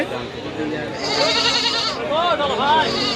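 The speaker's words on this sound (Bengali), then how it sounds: "এখানে একটা আমরা মা বাচ্চা ছাগল দেখছি উন্নত জাতের মধ্যে" Crossbred Totapari mother and kid goats bleat at the Baneshwar livestock market in Rajshahi, several wavering cries rising near the end over steady crowd chatter and voices.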